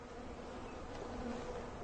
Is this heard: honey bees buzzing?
yes